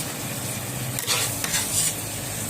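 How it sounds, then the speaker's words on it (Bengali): Oil sizzles steadily in a pan as potatoes and taro flowers fry, with a few scraping stirs, close by and without talk. "আলু আর কচুর ফুলটাকে বানিয়ে রেখেছিলাম ওটাকে দিয়ে সুন্দর করে মানে ভেজে নিতে হবে"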